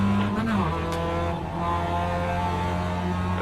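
A race car engine in the iRacing simulator drones loudly and steadily at high revs, with a brief pitch shift near the start as the car works through a corner, the sustained buzzing tone filling the whole stretch.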